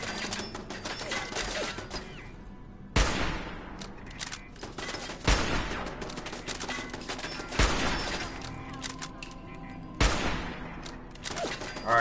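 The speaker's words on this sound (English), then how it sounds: "As we try to take out this machine gun." Machine gun fire in Fallout 4 survival mode, several sharp loud bursts spaced a few seconds apart, each a harsh rattling volley followed by lower clatter and background noise.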